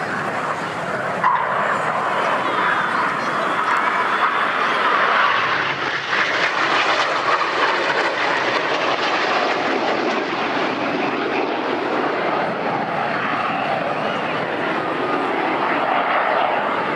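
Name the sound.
Red Arrows display jets flying at Swansea Airshow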